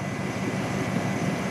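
A 1998 GMC 1500 king cab four-wheel drive pickup with a gas engine runs steadily after a jump start, giving a continuous broadband rumble at an even level with no talk.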